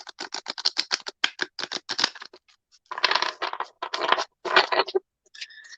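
Quick ripping, riffling bursts of playing cards being shuffled, in fast rhythmic runs with short pauses between, close by and alone.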